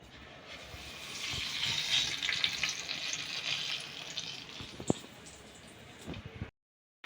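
Chili peppers coated in gram-flour batter fry in hot oil, giving a steady close sizzle and crackle with a few clinks of stirring, then cutting off abruptly near the end.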